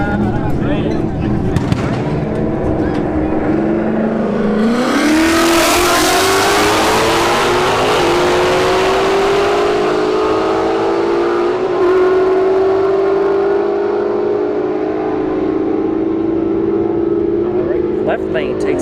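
Ford Mustang S197 and S550 launch in a drag race at Bradenton Motorsports Park, engines revving hard then roaring off with rising pitch that fades into the distance, with a commentator talking over it.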